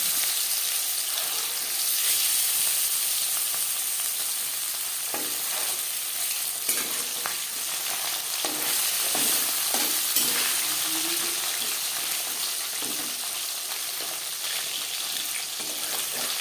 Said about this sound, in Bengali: চার চামচ রিফাইন্ড অয়েল গরম করে নেওয়ার পর দিয়ে দেবো ম্যারিনেট করে রাখা মাছ